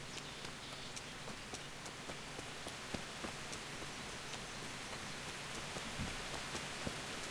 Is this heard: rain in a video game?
yes